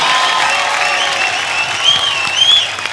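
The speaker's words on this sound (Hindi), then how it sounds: "एक बार जोरदार तालियां कटरीना कैफ के लिए।" A studio audience on a TV comedy talk show applauds and cheers for actress Katrina Kaif, a loud, sustained crowd roar with whistles and shouts rising near the end, with no speech.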